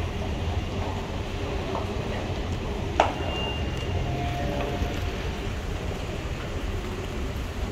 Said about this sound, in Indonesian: Jadi MRT itu Metro Rail Train.